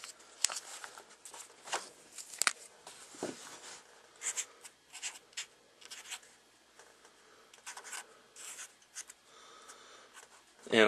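A silver Sharpie marker writing on an SD card, faint, short scratchy strokes in scattered bursts against a quiet background.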